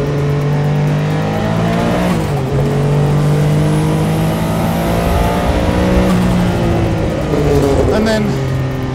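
A Porsche 962 Le Mans race car engine revs loud and close, climbing through the gears with rising pitch and shifting tone, plus a brief lift and re-acceleration.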